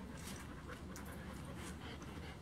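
A small dog whimpering and panting close by, a steady breathy rasp with faint whines, a person's voice briefly heard in the background.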